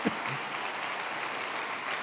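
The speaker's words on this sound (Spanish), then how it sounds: "Denle un aplauso a Cristo." A church congregation claps in sustained, dense applause that stays steady and fills the room for a couple of seconds, with a faint voice briefly audible at the start.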